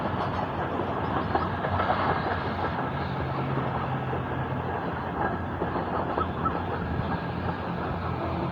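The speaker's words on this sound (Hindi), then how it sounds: "ये देखें जी PH20 8322 ज़बरदस्त लोकोमोटिव।" Pakistan Railway train with a PH20 locomotive passing at speed through Samanabad station, a steady loud rumble and clatter of wagons filling the whole stretch, with no voices.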